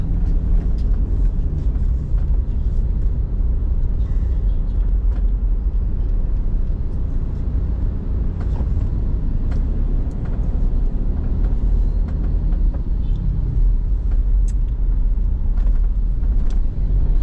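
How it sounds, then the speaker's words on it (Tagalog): Heavy, steady traffic on a busy road in Malolos, a dense low rumble of passing cars and larger vehicles close by that never lets up, with faint scattered clatter on top. "Napaka-traffic dito sa Malolos."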